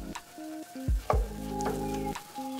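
A Beyond Burger patty fries on a Blackstone griddle, giving a steady close sizzle that runs through the short stretch alongside ringing tonal sounds.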